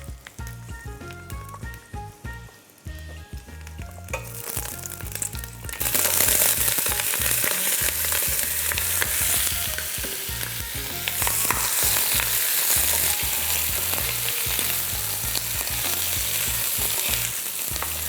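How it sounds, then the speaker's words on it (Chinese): Pork trotters hit a hot wok with ginger and garlic, with a loud steady sizzle and stir-frying scrapes. A bright burst of frying noise about six seconds in fills the clip, with a low rhythmic thumping underneath throughout. "姜跟蒜爆香了过后，我们将猪脚倒进去，"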